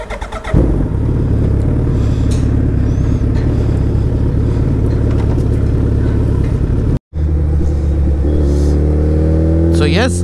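A Suzuki Hayabusa fitted with a race-fit exhaust idles loudly, then pulls away with rising revs and gear changes, the engine close and dominant throughout with a brief dropout midway.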